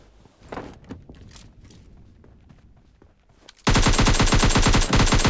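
Automatic gunfire in the mobile shooter PUBG Mobile Lite: after quiet clicks and shuffling, a loud, rapid burst of shots suddenly erupts and keeps rattling for nearly two seconds.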